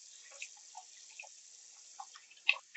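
Water dribbles and drips at a bathroom sink while a face is rinsed, with soft scattered splashes and a couple of sharper drops near the end, faint and close with no talking.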